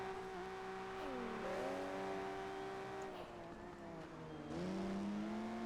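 Maserati 250F racing car engine in the video game Project Gotham Racing 4, a loud continuous engine note that climbs and drops with gear changes and rev swells, accompanied by other cars and faint tire squeal.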